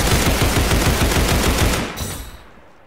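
Rapid gunfire in the Roblox game Criminality, a loud fast burst of repeated shots for about two seconds that cuts off abruptly into a fading tail.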